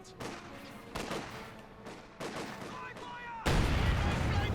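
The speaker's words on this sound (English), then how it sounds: "Mine going off. Oh, Grenadiers got stopped by a mine" A mine detonating in the World War II strategy game Company of Heroes 2, preceded by several sharp battle impacts and shots, then a loud, sustained blast that fills the final second.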